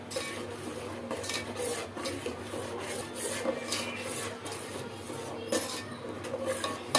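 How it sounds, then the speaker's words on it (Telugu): A utensil scrapes and stirs tomato puree into cooked onions in a pan, with repeated rasping strokes and metallic scrapes at an uneven rhythm, close and moderately loud, no talking. "టమాటా ప్యూరీ పోసుకోవాలి పచ్చివాసన పోయిన దాకా కలుపుకోవాలి"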